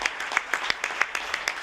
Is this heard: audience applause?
yes